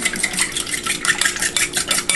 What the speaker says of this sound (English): I'm gonna mix this up.